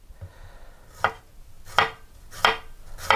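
A knife chops bell pepper into small cubes on a cutting board, giving four crisp, evenly spaced strikes about one per second, close and clear over a quiet room.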